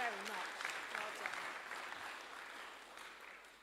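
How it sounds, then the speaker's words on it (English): A church congregation applauding at a Sunday service, a broad wash of clapping that starts just after a voice and slowly fades away. "Can we give them a round of applause?"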